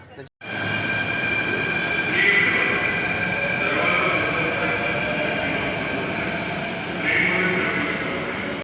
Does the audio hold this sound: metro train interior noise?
yes